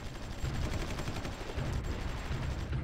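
Dense, continuous rattling gunfire and booming bombardment in a strategy video game, a loud, unbroken barrage of overlapping shots from start to finish.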